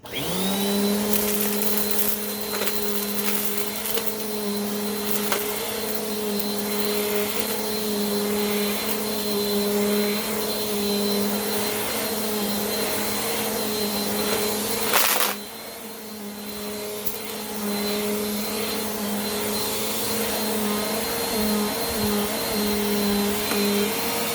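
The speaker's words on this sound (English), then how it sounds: "That was how to change the belt on your Bissell PowerForce compact bagless upright vacuum." Bissell PowerForce compact bagless upright vacuum running after a belt replacement, a loud steady whirring drone with occasional crackles as it picks up debris and a brief dip in tone midway, with no talking.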